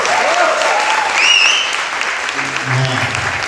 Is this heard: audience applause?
yes